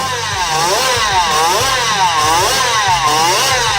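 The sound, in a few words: small-displacement twin-cylinder liquid-cooled motorcycle engine revving above 20,000 RPM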